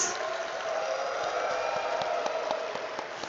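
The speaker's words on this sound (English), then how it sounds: "with a thunderous round of applause" An audience in an atrium at a stock exchange listing ceremony applauding, a steady dense wash of many hands clapping at a moderate distance, with no clear talk.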